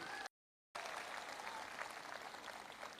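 An audience at a motivational speaking event in Agra breaks into applause, a dense patter of many hands clapping that cuts out briefly and then resumes, continuing steadily without talk.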